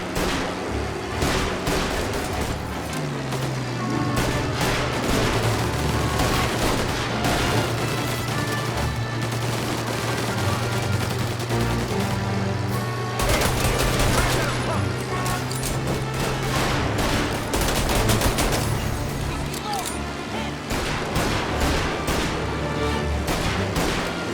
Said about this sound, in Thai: โอ้โหยิงกันกลางเมืองเลย